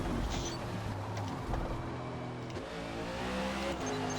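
NASCAR race car engines roar in Forza Motorsport at Watkins Glen, a dense layered drone of several cars close by, with steady revving and gear-change swells and no talking.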